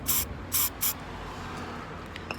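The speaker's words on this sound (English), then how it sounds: "I'm going to take my paint and spray some into the lid." Car touch-up spray paint bursts from an aerosol can into a lid in three short, sharp hissing sprays close to the microphone, each a fraction of a second, followed by quiet room tone.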